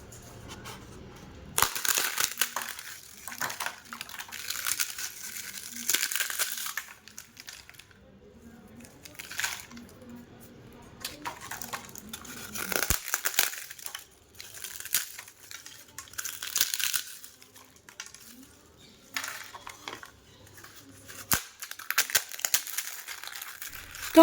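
Crisp papad made from jowar flour, some roasted and some fried, is snapped and crumbled by hand, giving repeated close cracking and crinkling bursts with short pauses between them.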